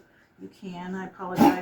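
A pet dog named Luke gives a short snorting sneeze near the end, after gulping water too fast, loud and close, overlapping a person talking.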